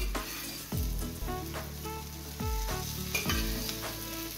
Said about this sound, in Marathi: आता गॅस एकदम लो फ्लेममध्ये ठेवून आम्ही ह्याला फ्राय करून घेऊया।